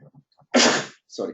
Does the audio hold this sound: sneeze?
yes